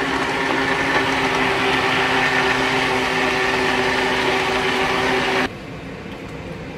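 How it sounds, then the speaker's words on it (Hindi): Electric blender whirring as it mixes kadhi batter, a loud steady motor hum with a constant whine running for over five seconds before cutting off abruptly, leaving quieter background. "अब मैं क्या करूँगी, मैं इसको हल्का सा मिक्स कर लूँगी मशीन के साथ"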